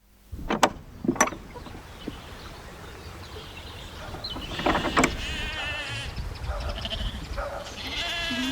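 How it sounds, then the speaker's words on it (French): Sheep bleat inside the Terre et Baie sheepfold, with two sharp close calls at the start and more bleats later over a shuffling barn background. "Donc là on est dans la bergerie Terre et Baie."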